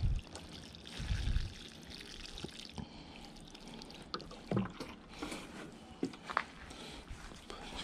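Water poured from a small container onto garden soil over a bed of self-seeded plant bulbs, a soft trickling splash with a few louder gurgles and drips, close by and otherwise quiet.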